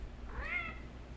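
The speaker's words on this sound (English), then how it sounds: "That's my cat, Thomas." A pet cat named Thomas gives a single soft, close meow, rising then falling, in a quiet room.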